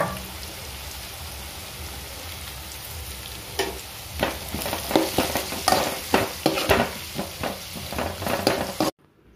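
Spices including turmeric, salt and garam masala are stirred into a potato and drumstick curry in a pan, a constant sizzle with repeated scraping, clattering stir strokes growing busier and louder before stopping abruptly, no voices.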